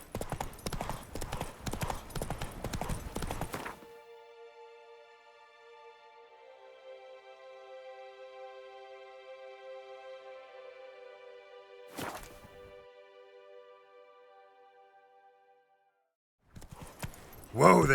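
Roach the horse galloping in The Witcher 3, with a rapid, dense clatter of hooves for a few seconds, then a lull filled with sustained tones, a brief clop, and galloping resuming at the end.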